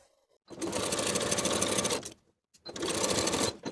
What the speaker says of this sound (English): Sew the bottom edge of the flap with a 3/8 inch seam allowance.